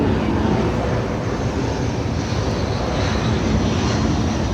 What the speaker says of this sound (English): Now there's a jet flying right overhead.